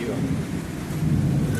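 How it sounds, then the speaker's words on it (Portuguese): Steady rain pours down outdoors near a kitchen, a dense even wash of drops splashing on surfaces and soaking everything, with a low rumble underneath, continuous and fairly loud. "Chuvinha boa."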